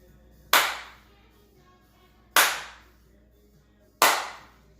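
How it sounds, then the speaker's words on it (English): Three single sharp hand claps at a steady, slow spacing, each a crisp close slap with a short decay, made during a toss-and-catch exercise with a sock ball in a seniors' fitness session. "using the same sock ball, I want you to toss, clap, catch."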